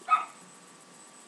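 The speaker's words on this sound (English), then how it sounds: "my neighbor dog's barking" A neighbor's dog gives a single short bark, faint and somewhat distant, followed by quiet room tone.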